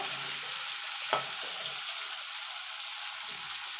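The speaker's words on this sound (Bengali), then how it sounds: "চিংড়ি মাছটা খুব ভাজবো না একটু নাড়াচাড়া করে নেবো" Prawns frying in a pan and being stirred, a low, quiet sizzle broken by one sharp scrape or clink of the spatula, close by.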